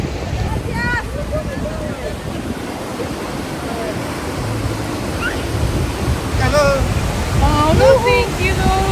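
Ocean surf rolling onto a beach at Mazatlan on a red-flag day, a steady broadband wash of breaking waves with wind, while voices chatter and call over it throughout.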